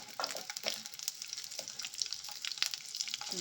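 Garlic, ginger, green chilli, cumin and fennel fry in a pan for hotel-style tomato bath, making a steady crackling sizzle with bursts of stirring, close and moderately loud.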